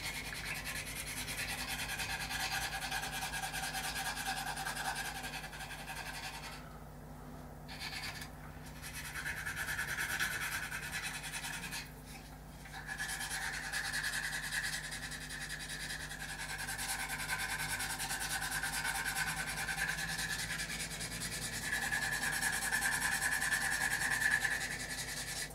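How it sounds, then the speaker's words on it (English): A skinny sander rubs back and forth over glued nacelle fairing joins on a scale aircraft model, a steady close scratchy rasping that swells and dips with brief pauses across the stretch. "So I'm just going to use a skinny sander, sand all these joins"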